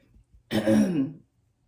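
A single throat-clearing cough, close and fairly loud, lasting under a second before quiet returns.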